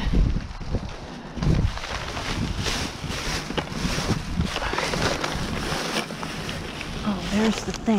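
Gusty outdoor wind buffets the microphone in rough, uneven rumbles, with a person talking through parts of it.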